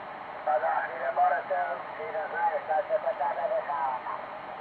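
Narrowband static hiss from a TRX Kaper 2 DDS radio transceiver with a warbling, garbled signal drifting in and out, steady and fairly close, like a receiver tuned between stations.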